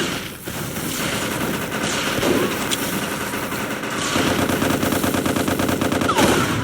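Rapid gunfire rattles continuously in the shooter game MicroVolts: Recharged, a dense close barrage of shots that grows heavier partway through, with no speech over it.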